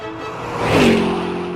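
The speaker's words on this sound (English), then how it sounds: "With a muscle car that's absolutely not made for the snowy roads." A muscle car engine revving on a snowy road in a blizzard, a rising roar that swells to a loud peak then settles into a steady drone.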